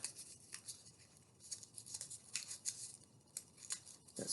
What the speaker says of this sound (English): I'm trimming the paper that I had stuck the fan shape to hold it in place